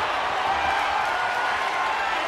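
Crowd at a wrestling ambulance match in a video game, a steady wash of cheering and applause filling the arena, with a commentator talking over it.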